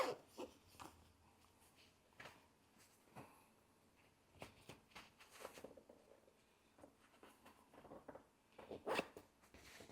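A zipper is worked closed along a fabric cushion cover printed with DTF textile transfer, giving quiet intermittent rasping pulls and small handling taps spread across a quiet room.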